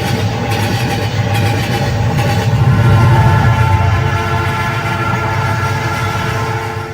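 A train runs as a sound effect in a narrated story: a loud, steady rumble with rolling low-frequency noise and a few faint high tones at the start, alone without voices.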